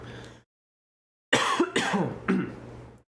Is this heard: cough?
yes